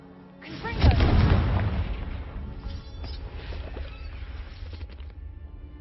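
A Confringo fire spell bursts in the Hogwarts Legacy video game: a single loud explosive boom that swells quickly, then rumbles and crackles as it fades over several seconds.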